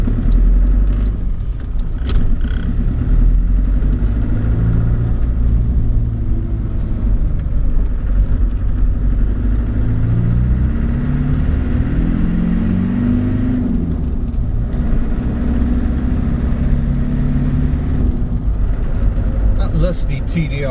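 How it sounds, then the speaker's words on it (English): A 1989 Land Rover Discovery with a 200 TDI direct-injection diesel engine drones and rumbles from inside the cabin while driving, a steady low throbbing with shifts in revs throughout. "Lusty TDI engine has a very distinctive soundtrack."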